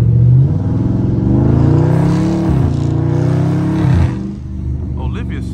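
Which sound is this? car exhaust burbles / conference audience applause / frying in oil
car exhaust burbles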